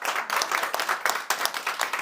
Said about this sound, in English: first of all, a round of applause for Akiva at the back.